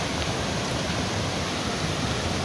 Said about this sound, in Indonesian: kalian melewatkan kesempatan untuk melihat air terjun seindah ini